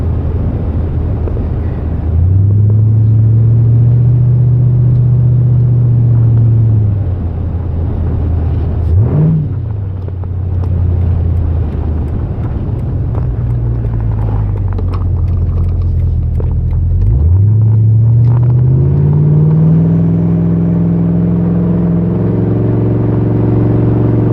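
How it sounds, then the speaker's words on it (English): LQ4 V8-swapped Ford Ranger cruising at roughly 25 to 30 mph, a steady deep engine drone with pitch swells as the throttle eases and picks up, close and continuous without speech. "Just driving. I'm going to try to hold it around 25 to 30 miles an hour."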